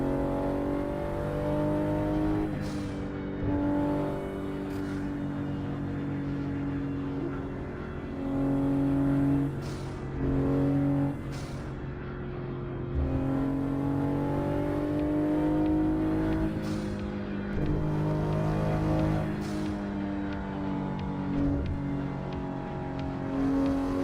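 A race car's engine in the Assetto Corsa driving game drones steadily for the whole stretch, its pitch climbing and dropping as the car accelerates and eases off through gears, loud and continuous with no talking.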